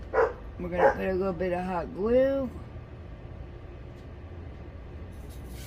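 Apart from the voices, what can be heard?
dog barking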